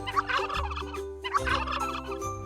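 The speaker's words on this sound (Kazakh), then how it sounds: "күрке тауық," A domestic turkey gobbles twice in quick succession, a loud close burst of rapid warbling calls heard alone.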